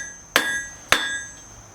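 A blacksmith's flat-faced hammer strikes hot metal on an anvil twice, about half a second apart; each blow is a sharp, close metallic clang with a bright ringing tail.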